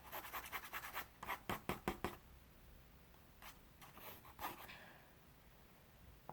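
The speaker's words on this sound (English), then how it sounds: "I'm just only going to draw net" A pen scratching across paper while a net is drawn, brisk rhythmic strokes in bursts then a pause and a few more scribbles, close and quiet with no talking.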